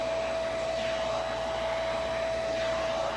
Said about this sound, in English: The machine itself is pretty quiet. It's quieter than a standard vacuum.